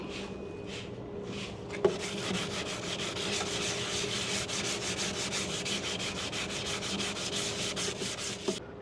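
Hand sanding of teak wood between coats of varnish, a steady continuous rasping rub with regular strokes lasting throughout, close and moderately loud, with two faint knocks.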